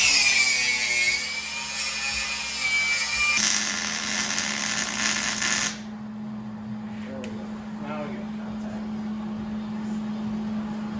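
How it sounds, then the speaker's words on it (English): A hand grinder fitted with homemade slicks cuts into the frame of a 1956 Chevy, a loud, dense metallic whine for about six seconds that then stops, leaving a low steady hum. "Grinder again. Yeah, good old grinder with the homemade slicks on it."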